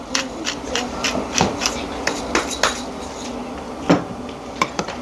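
Clattering shakes of a lidded container mixing blue cheese sauce with crumbled cheese, salt and black pepper, a run of close, irregular knocks and rattles with no talking.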